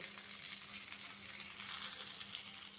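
Quiet, steady sizzling comes from frying in a pan after turmeric powder has gone into the oil, a continuous soft crackle with no one talking.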